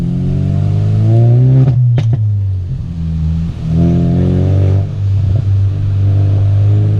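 A Ford Focus RS engine revs hard while driving, surging in loud, close pulls that rise in pitch, then drops briefly during a gear change before climbing again.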